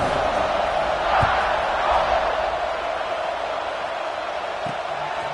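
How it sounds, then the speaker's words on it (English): Stadium crowd at a college football game against Ohio State roars steadily before the kickoff, a loud continuous wash of cheering with a couple of brief thumps. "this crowd now ready to get behind them"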